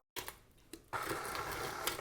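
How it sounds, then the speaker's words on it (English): An electric mixer beats chocolate swirl cookie dough. It starts after a brief silence with a couple of short clicks and bursts, then settles into a steady, close motor whir. "we're going to turn this mixer back on"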